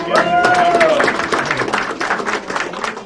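An audience at a school mural unveiling ceremony applauds with steady, moderately loud clapping, mixed with crowd murmur and a voice or two over the top.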